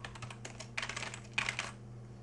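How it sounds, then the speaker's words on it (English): Quick, light keystrokes on a computer keyboard in two short bursts, close and fairly quiet, then a pause. "now I don't want to spend too much time typing here"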